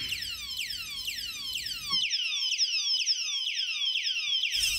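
A door security alarm blares close and loud, repeating rapid descending whooping sweeps in a steady electronic siren pattern throughout.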